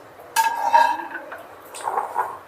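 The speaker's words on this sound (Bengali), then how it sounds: "এই যে ঢাকনা খুলে নিলাম" A lid comes off a cooking pot during home cooking, giving a metallic clink and scrape with ringing tones, followed by softer clinks.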